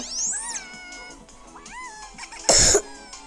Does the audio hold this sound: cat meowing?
yes